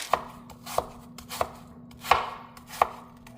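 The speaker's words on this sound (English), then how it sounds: "I peeled, sliced all the apples." Gala apples being sliced on a cutting board, a sharp knife tapping through the fruit in five distinct cuts at a steady, slightly uneven pace, close and clear with no talking.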